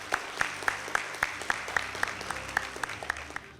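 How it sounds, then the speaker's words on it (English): An audience claps for debate teams, a loud even round of applause with a few sharp, regularly spaced claps standing out near the microphone. "Let's give them one more loud round of applause."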